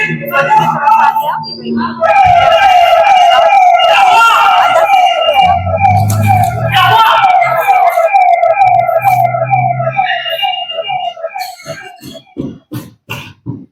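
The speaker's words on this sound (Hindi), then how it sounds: "एम्बुलेंस आ गई।" Loud, close siren with a wailing, oscillating tone that rises and falls steadily before breaking into short bursts at the end, with voices and coughing underneath.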